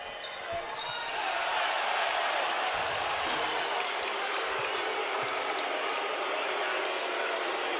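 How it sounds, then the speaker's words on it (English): Dense basketball arena crowd noise, a steady loud roar of booing and shouting from the stands at an NCAA men's game between Mississippi and Missouri, with scattered bench cheers and a commentator talking over it. "It draws boos from the crowd and cheers from the Missouri bench"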